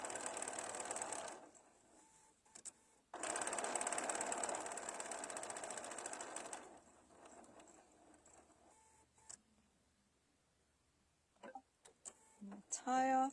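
A sewing machine top-stitches a towel in two bursts of fast whirring stitching, separated by a pause, followed by quieter handling clicks and brief talk near the end.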